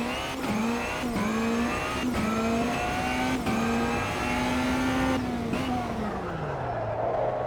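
A rallycross car engine in the racing game Automobilista 2 revs and shifts through gears in repeated rising pulls, a steady mid-pitched drone that drops at the end as the car leaves the pits.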